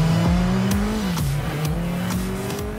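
A sports motorcycle engine pulls hard at speed, its high steady note climbing with gear-change dips, loud and close throughout with no talk.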